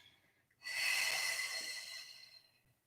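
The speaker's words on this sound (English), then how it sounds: "Breathing it in. Breathing it out." A single slow, deep breath drawn in and released during a hip-opening yoga flow held in a deep squat (malasana), a soft, airy hiss that swells, holds steady for about two seconds, then fades, with no talk over it.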